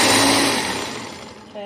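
A blender whirring as it mixes ginger shot ingredients, a loud steady motor whine that winds down and fades over about a second and a half, then a brief clunk at the end.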